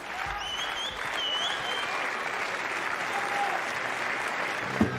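A large stadium crowd claps steadily and evenly at a long jump runway during a World Athletics Continental Tour meeting in Santa Cruz de Tenerife, a broad sustained wash of applause with no pauses.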